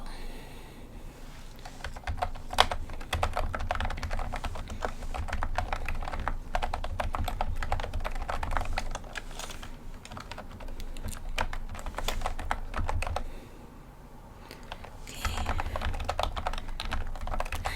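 Steady, fast clacking on a computer keyboard during a hotel check-in and booking role-play, close and crisp, continuing with a short lull near the end before the typing picks up again.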